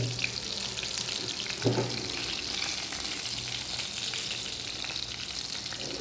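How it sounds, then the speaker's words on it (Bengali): Eggplant slices fry in hot oil with a continuous soft sizzle, steady and moderately quiet throughout, punctuated by an occasional faint clink or stir. "ভালো করে সবজি বেগুন হালকা হালকা করে ভাজিয়া"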